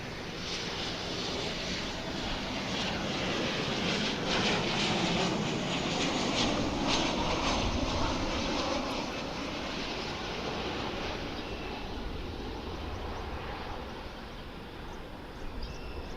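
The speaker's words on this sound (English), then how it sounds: "We've got American Airlines flight 2563 coming in now from Austin, Texas, the capital. Boeing 737-800" American Airlines Boeing 737-800 landing on the runway at DFW International Airport, with a broad, steady engine roar heard from a distance that holds for most of the clip and then eases off toward the end. No one speaks.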